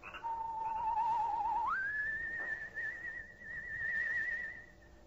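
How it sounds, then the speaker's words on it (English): A soft whistled signal drifts through the still night air near a cypress grove behind an old weather-beaten house: one low sustained tone that slides up to a higher wavering note, alone and fairly quiet. "a soft, whistled signal rides the still night air"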